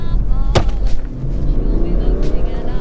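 A BMW 430d M Sport diesel, 265 hp, revving up from about 2000 rpm under full throttle, a steady close engine rumble with a sharp transient early on, heard under someone talking.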